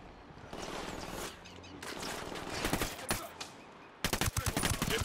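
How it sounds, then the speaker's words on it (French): Gunfire in the Ghost Recon video game crackles in sustained bursts and scattered shots, building to a sharper, denser volley near the end, with game ambience underneath. "Je tire!"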